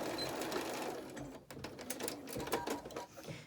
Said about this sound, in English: So right by that fold, stitch all those raw edges down.